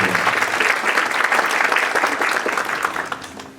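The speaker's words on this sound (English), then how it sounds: "I think they do deserve a lovely round of" A hall full of people clapping for a pharmacy sponsor at a community medical camp, a loud, even wash of applause that carries for several seconds without pause and with no talk.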